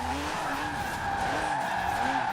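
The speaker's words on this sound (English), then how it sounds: "This car seems to be able to hold a skid for a long time" Tires squeal in a long sustained skid as an RWB Porsche drifts through a roundabout in Forza Horizon 4, the screech wavering and holding steady over a low engine drone.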